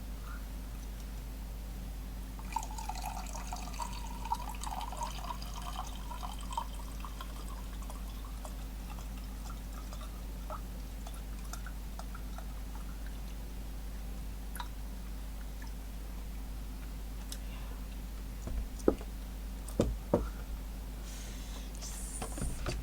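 Cranberry juice is poured into a glass already holding vodka, a soft liquid trickle starting a few seconds in over a low steady hum, followed by quiet stretches and a few sharp clicks near the end.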